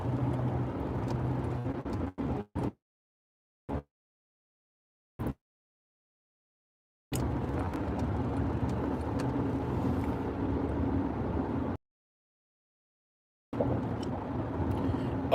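Interior of a car being driven, steady low engine and road rumble that repeatedly drops out to silence with brief cutoffs, moderate level, no talking.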